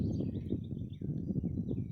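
Bobolinks, a male chasing a female, give thin, bubbly calls faint in the distance, over a loud low rustling outdoor rumble.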